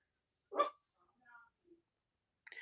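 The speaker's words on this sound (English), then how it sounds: "I'm so sorry for that barking." A dog indoors at home gives one sharp, close bark, followed by a few faint whimpering yips and a brief rustle in an otherwise quiet room.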